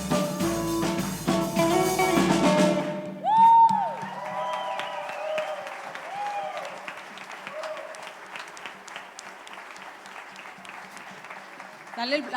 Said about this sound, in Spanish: Dale el aplauso más fuerte